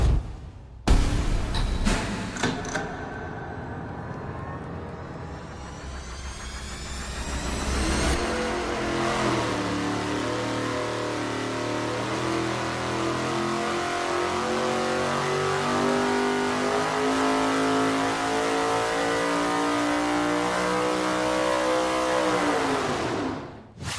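A high-horsepower race engine running on a dyno during a test pull, a few sharp blips at the start, then a long, loud sustained pull with the pitch sweeping steadily upward before dropping off at the end.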